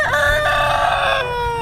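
Chickens on a backyard coop crowing and clucking, a loud, close rooster-like call with sustained harmonic tone lasting over a second, alone without talk.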